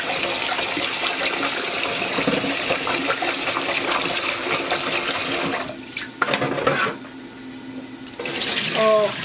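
Rice is rinsed under running tap water in a home kitchen, producing a loud, continuous splashing stream that breaks into sloshing and swirling near the end.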